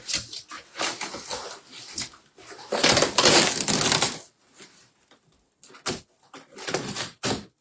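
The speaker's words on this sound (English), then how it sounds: "If I can get the green tape off it." Green tape is torn and peeled off a cardboard box in several bursts of crackling, ripping noise up close, with quiet gaps between pulls.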